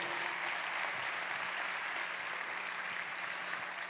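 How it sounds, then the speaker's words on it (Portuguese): Church congregation applauding during a sermon, a continuous even wash of clapping hands that is fairly faint and distant, with no speech over it. "Se você é regido pelo Senhor Jesus, dê um aplauso a Ele."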